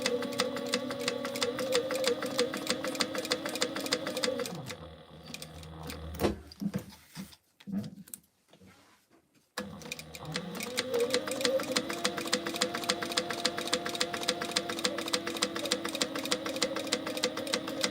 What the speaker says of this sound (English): we're gonna just top stitch, well, sew just two sides with,